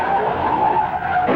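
An Indy 500 race car that has lost a wheel skids in turn 3 at the 1965 race, a brief loud scraping screech of tires and metal with engine noise, no talk.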